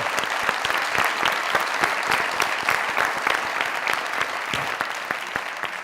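A studio audience on a Pakistani comedy talk show applauds steadily for an arriving female guest, a dense, even patter of clapping that fills the whole stretch with no voices over it.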